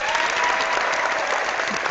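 Steady, dense applause from a studio or event audience fills the whole stretch, loud and continuous with no pauses.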